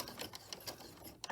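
Sewing machine back stitching near the bottom edge of a fabric herb sachet, heard as a short close run of quick mechanical needle clicks and whirring, with no talk.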